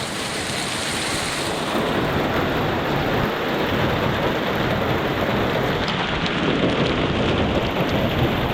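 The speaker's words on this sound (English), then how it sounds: "Now it's starting to hail." Heavy rain and hail hammer down in a loud, continuous roar close by, with a low rumble of thunder underneath.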